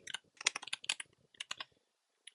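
Fast bursts of close, crisp key clicks from typing on a computer keyboard, in an uneven run that trails off into silence with one last keystroke, and no one speaking.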